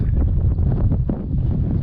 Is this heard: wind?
yes